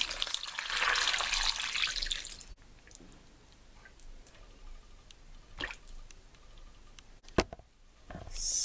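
Water runs into a bowl holding trimmed oxtail, a steady close pour that hisses for a couple of seconds, then gives way to quieter drips, splashes and small handling knocks.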